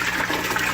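Clean water from a pump rushes steadily through a pipe in a small modular aquaponics system, a close, continuous gushing hiss with no pauses or voices.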